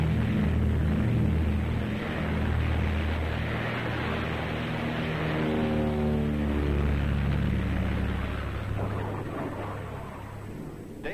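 Deep, steady engine roar with a rising drone, like propeller aircraft revving for takeoff in darkness in Antarctica, heavy and continuous with wind-like noise throughout.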